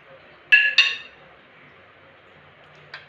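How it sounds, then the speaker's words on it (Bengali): Metal lid lifted off a cooking pan of mustard rohu fish curry, giving two quick bright clinks close together and a faint later tap, otherwise quiet kitchen. "ঢাকাটা খুললাম।"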